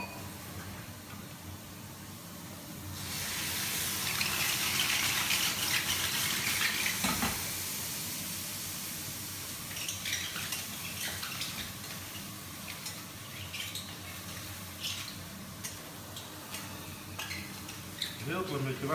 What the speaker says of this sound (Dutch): En daarna doe ik er een heel klein beetje water bij.